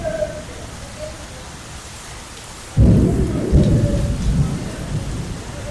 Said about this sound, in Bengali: এত জোরে বৃষ্টি হইতেছিল, আমি কখনো দেখি না এইভাবে বৃষ্টি হইতে